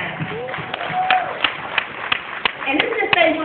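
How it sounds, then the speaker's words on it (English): Scattered clapping from a small audience in a room, sparse individual claps rather than full applause, with voices talking and murmuring over it. "let's give yourself a round of applause, guys."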